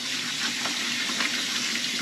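Tap water gushes steadily into a basin for hand-washing laundry, a continuous close splashing rush with faint sloshing throughout.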